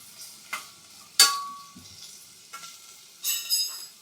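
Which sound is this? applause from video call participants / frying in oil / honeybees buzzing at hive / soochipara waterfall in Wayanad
frying in oil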